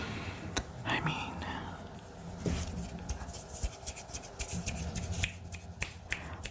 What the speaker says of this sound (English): try not to snap my fingers too loudly to wake up my dog